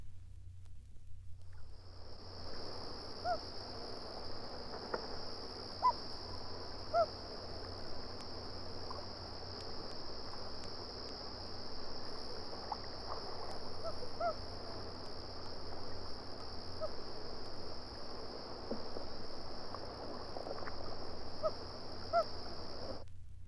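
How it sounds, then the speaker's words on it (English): A single loon gives a series of soft hoots at varying pitch, faint and distant over a steady insect drone and a constant high whine, with low background rumble. "Here is a series of hoots from a single loon."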